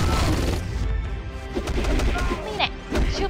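Gunfire in the mobile video game Marvel: Future Fight comes as several short bursts of shots scattered over a dense bed of game sound, with a voice talking now and then.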